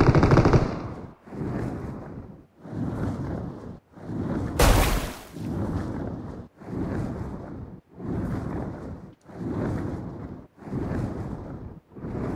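Long bursts of automatic gunfire from PUBG Mobile, about nine sustained volleys separated by short pauses, with one sharp louder blast midway; loud and close, no talking.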